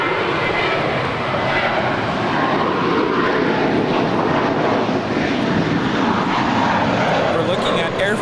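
An Air France Boeing 777-300ER in SkyTeam livery, arriving from Paris, lands at LAX with a loud, sustained roar of jet engines that holds steady across the whole stretch, with a voice talking over it.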